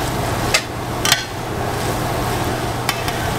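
Flour-coated onions and mushrooms being stirred in a pot for smothered pork chops, with a low steady sizzle, a few sharp utensil knocks against the pot, and no talking.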